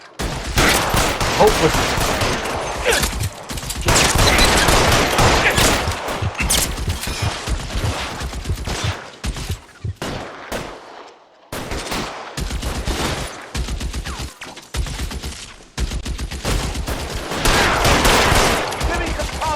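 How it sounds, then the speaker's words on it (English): Dense bursts of gunfire and rapid machine-gun volleys in L.A. Noire rattle loudly for most of the stretch, with brief lulls between salvos and a voice speaking over the shooting. "Lay down some covering fire."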